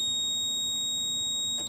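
A multimeter's continuity beep sounds while a Goodman gas pack compressor winding is tested for a ground: one steady, high-pitched electronic tone held at an even level for the whole moment, fairly quiet, with no voices.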